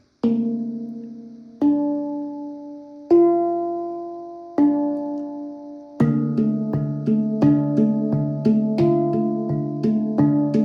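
A handpan played alone in practice patterns: single ringing strikes spaced about every second and a half, each decaying slowly, then a quicker rhythmic run of overlapping resonant notes.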